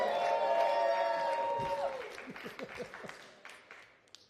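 A comedy club crowd at a roast battle applauds and cheers for a comedian coming up from the audience, a loud burst that swells and then thins out into scattered claps and whoops over about four seconds.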